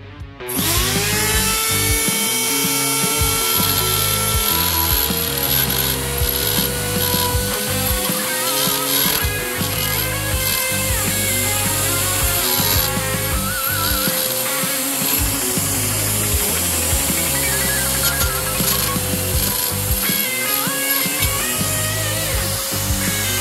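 A high-RPM die grinder with a carbide cutter ports the exhaust of an iron 351C 2V cylinder head, a loud continuous whine that wavers in pitch as it bites and chatters, close up with no talking.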